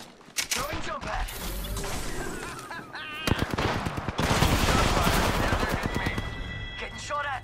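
Video game gunfire crackles in bursts of rapid automatic shots mixed with single cracks, loud and dense, with a heavier sustained barrage in the second half and faint voices underneath.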